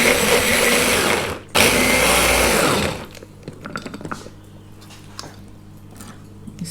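A blender whirs loudly for about three seconds, briefly cuts out and restarts, blitzing food to a rice-like texture, then stops, leaving quiet clicks and handling noises.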